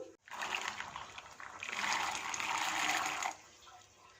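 Washed green peas tip into a pot of boiling water sweetened with sugar and sharpened with white vinegar, a close splashing pour and bubbling rush that lasts a few seconds before cutting off.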